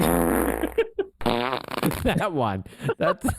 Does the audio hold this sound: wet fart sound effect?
yes